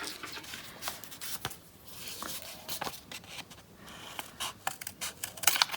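Scissors cut paper for a homemade Earth Day bookmark, giving soft, irregular snips and rustling close up and fairly quiet, with no one talking.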